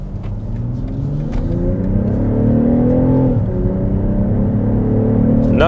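2023 BMW X6 xDrive40i engine and exhaust accelerating, a loud close sweep rising through the gears, with one shift midway and the pitch climbing again afterward, no talking.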